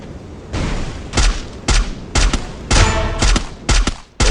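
Gunfire in a battle royale video game, heard as rapid bursts of sharp shots in several clusters, loud and close, with short gaps between the volleys.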